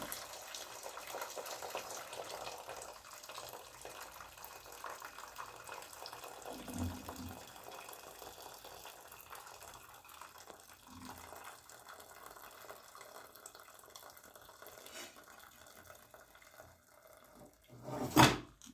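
Soft, continuous trickle of water draining from cooked rice, faint and steady, with a few small clinks and a louder clatter near the end.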